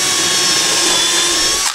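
A loud, close power drill drilling pilot holes in wood blocks whines steadily at high speed, then winds down abruptly at the end.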